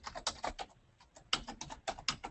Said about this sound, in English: so I can simply start typing.